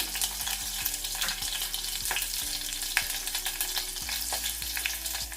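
Green chillies and dried red chillies sputtering in hot oil with popping mustard seeds for a Telugu rasam, a steady close crackling sizzle with occasional sharp pops and faint stirring, no talk.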